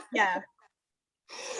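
A single sneeze during an interview: a short voiced intake, a pause, then a sharp breathy burst close to the microphone.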